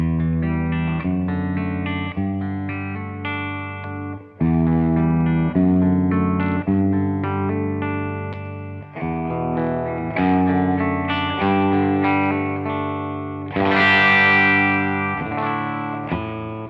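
Electric guitar playing a sequence of chords and notes, the tone shifting partway through as an effect is switched in and out; no talking.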